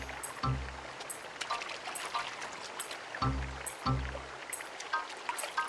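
Cartoon stream water flowing in a soft, continuous trickling wash, with light bright plinks and occasional low tones layered over it, steady and not loud, with no voices.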